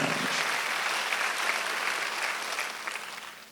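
Church congregation at a Sunday worship service clapping together, a dense, even wash of applause that fades slightly toward the end.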